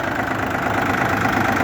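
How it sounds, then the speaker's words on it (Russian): An Iseki TU205 tractor's three-cylinder diesel engine idles, a steady, dense rumble with a fine knocking texture that holds evenly and closely throughout, with no other sounds. "Двигатель дизель 3 цилиндра"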